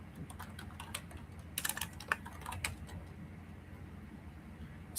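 A computer keyboard tapped quietly during Python setup in VS Code, with a short cluster of clicky keystrokes in the middle against a low steady background hum and no speech.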